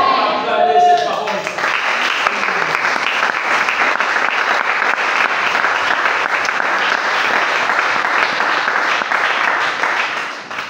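A church congregation breaks into sustained applause after a Bible reading, a dense wash of many hands clapping that starts suddenly and carries on evenly at close range, with a brief voice at the very start.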